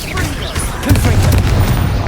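A Confringo blasting spell in Hogwarts Legacy hits with a heavy, booming impact that swells about a second in and rumbles on amid busy combat noise.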